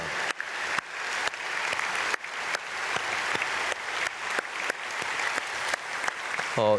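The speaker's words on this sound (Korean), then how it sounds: "우리 오늘 앞에 나와 있는 모든 아이들 크게 박수로 축복하겠습니다" A church congregation applauds at a dawn prayer service, a steady, dense roar of many hands clapping that fills the space continuously at close range, with no voices over it.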